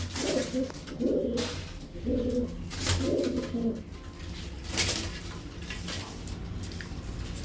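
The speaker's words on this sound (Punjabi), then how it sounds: "ਦੋਵੇਂ ਪੁਰਾਣੇ ਕਬੂਤਰ ਆ ਦੋਵੇਂ ਜਿਹੜੇ ਹੈਗੇ ਤੁਸੀਂ ਦੇਖ ਰਹੇ ਹੋ ਬਹੁਤ ਚੰਗੇ ਕਬੂਤਰ ਆ" Pigeons coo in several low, throaty bursts during the first few seconds, then fall quiet over steady background noise with a few faint knocks.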